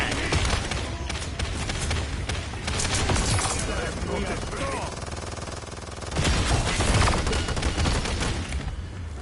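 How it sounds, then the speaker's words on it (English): A big gun fired repeatedly in the game Paladins, rapid loud bursts of gunfire and impacts in dense clusters, easing briefly mid-way before resuming with heavy bursts, over a busy game soundscape. "Bringing out the big gun."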